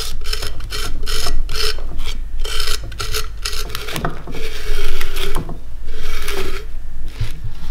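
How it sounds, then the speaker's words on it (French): A potter scrapes and rasps clay with a hand tool while carving and refining a clay teapot, producing steady, close, rhythmic scraping strokes that repeat throughout with no talking. "venir gratter la matière dans les 3 dimensions de manière à obtenir un objet harmonieux"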